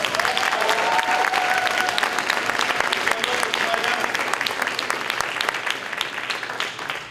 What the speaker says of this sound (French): j'aimerais qu'on prenne le temps d'applaudir l'Église pour un temps.